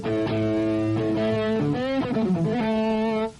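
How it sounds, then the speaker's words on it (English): A Strat-style electric guitar with heavy distortion plays a short phrase of sustained, buzzing notes with bends and slides, loud and close, with no voice. "hard to tell exactly what it sounds like with that much distortion on it"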